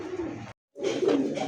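Pigeons coo at a farm selling local and foreign breeds, including golden swa chandan pigeons; steady, fairly close cooing fills the clip, broken by a short silent gap midway, with no talk.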